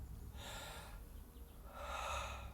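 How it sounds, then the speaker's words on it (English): A person takes a full, deep breath during a breathing-practice demonstration, with two broad airy inhales separated by a brief pause, heard close and fairly quiet with no speech. "the whole idea of breathing mostly is to take full breaths"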